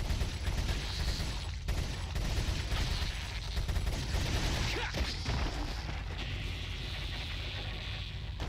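Machine gun fire in the video game Resident Evil 4, rapid bursts of gunfire with clattering mechanical impacts over a dense, loud background, with brief dips between volleys.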